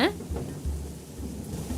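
Heavy rain falls steadily with low rumbles of thunder rolling underneath, a continuous moderately quiet wash of downpour with no voices.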